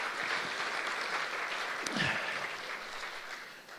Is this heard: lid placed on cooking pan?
no